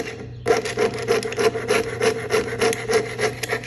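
Jeweler's saw cutting a small metal bezel tab, a quick steady rasping stroke rhythm of roughly three strokes per second, close and clear, starting abruptly and going on without speech.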